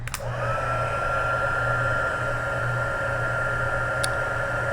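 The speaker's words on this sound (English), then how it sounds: "So I'm going to heat up my heat gun and heat emboss these." A heat gun runs steadily for heat embossing on a handmade card, with a constant close whooshing blow and hum that holds without change throughout.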